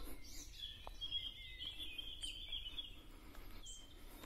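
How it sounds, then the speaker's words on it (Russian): Birds sing in a forest in the early evening, with faint high chirps and warbling calls carrying through quiet woodland air, distant and soft. "послушайте, как сильно стали петь птицы"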